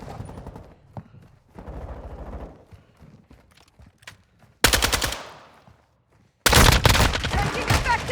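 Video game gunfire from Call of Duty Warzone in Modern Warfare II: two loud bursts of rapid automatic fire, each a second or so long, following quieter game sounds and muffled effects.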